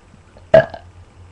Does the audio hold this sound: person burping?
yes